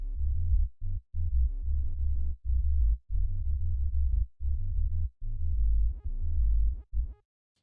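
Deep sub bass line run through a resonant shelf filter at 61 Hz, loud and droning in a steady riff of repeated notes separated by short gaps, heard alone without talk.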